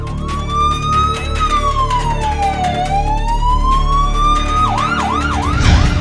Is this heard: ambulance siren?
yes